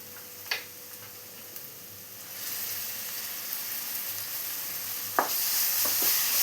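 Onion with ground spice paste sautéing in a pan for chicken curry, a soft continuous sizzle that swells a little louder halfway through, broken by a few sharp taps of a spoon against the pan.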